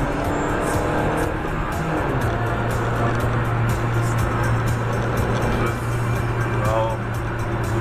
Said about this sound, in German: Und jetzt müsste dieser Mercedes vorbeikommen.